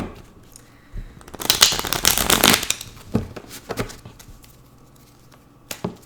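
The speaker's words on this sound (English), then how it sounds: "Let me give this a little bit of a shuffle." Tarot cards are shuffled by hand in quick, crisp riffles with dense, papery flutters that build and then ease off, ending in a few scattered snaps of cards.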